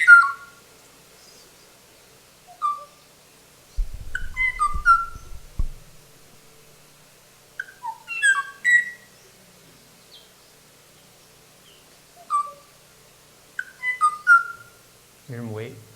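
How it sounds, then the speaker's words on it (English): An archival 1976 field recording of a male Kauai o'o singing, with clear, flute-like whistled phrases repeated in short bursts and separated by pauses, some low rumbling handling noise in the background. "Let's hear that song again now."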